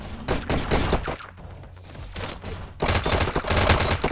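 Rapid gunfire in a competitive VR e-sports shooter match, fast volleys of sharp shots in clustered bursts separated by brief lulls, loud and close with no voices.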